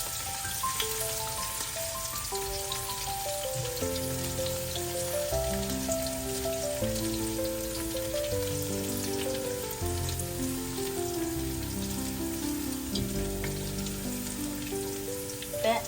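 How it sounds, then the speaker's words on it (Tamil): Vegetables sautéing in a pan for chicken noodles give a steady, soft sizzle all the way through, partly masked by louder background music with a clear melody. "போட்டு அந்த பச்சை வாசம் போகும் மட்டும் வதக்கணும்"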